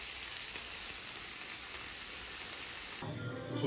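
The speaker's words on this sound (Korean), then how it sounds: "지글지글지글지글" Steady, close sizzling of food frying in a hot pan, a constant crackling hiss that cuts off abruptly near the end.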